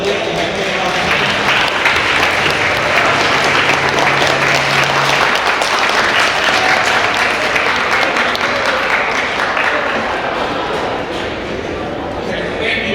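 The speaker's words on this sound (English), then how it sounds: "we please do another round of applause for our panelists and our community elect that came out tonight." Extended applause for panelists at a youth town hall on anti-violence in Pontiac, a crowd clapping steadily and loudly for several seconds with some voices and shouts mixed in, tapering slightly toward the end.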